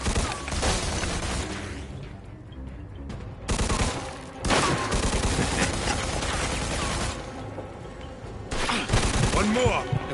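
Sustained gunfire in the crime action game Mafia 2: dense bursts of rapid shots in several long volleys, broken by short pauses, loud and close.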